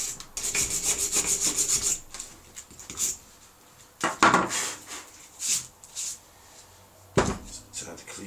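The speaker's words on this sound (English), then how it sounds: "I'm just going to grind that out a bit." Grinding build-up out of a grotty car part during an MOT repair, with harsh rasping bursts that start and stop, some rhythmic and some longer, loud and close, alone with no talk.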